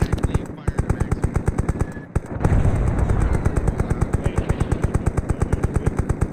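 A Maxim machine gun in the video game Arma 3 fires loud, steady rapid bursts with an even mechanical rhythm, briefly broken by a heavier blast and rumble before the rattle resumes. Voices talk underneath.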